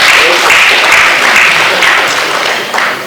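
Loud, steady applause from an audience at a student venture capital grant launch event, sustained clapping that fills the whole stretch and tapers slightly toward the end.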